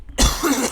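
A man gives a single harsh, close cough, loud and abrupt, with no talking around it.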